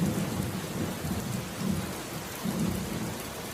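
Rain falls steadily with low rumbles of thunder rolling through, a soft, continuous storm wash at moderate distance with no voices.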